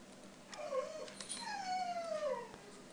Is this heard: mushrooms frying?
no